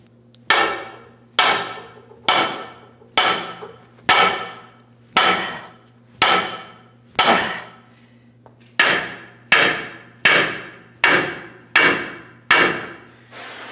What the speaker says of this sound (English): For now, I'm just continuing with my hammer.